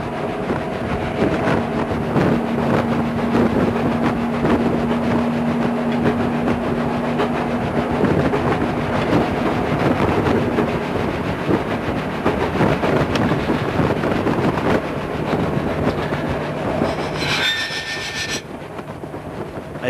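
Train rolling and braking down for a 25 mph speed restriction ahead of tunnels on the Machynlleth to Barmouth line, a loud continuous rumble of wheels and carriage noise with wind buffeting throughout and a brief squeal near the end.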